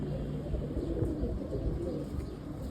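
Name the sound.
pigeons cooing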